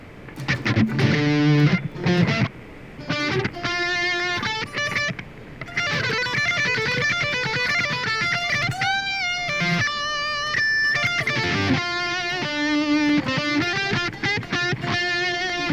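Electric guitar playing a quick melodic run on the highest strings over a D Dorian chord, bright picked notes in rapid phrases with sustained tones and brief pauses, heard alone.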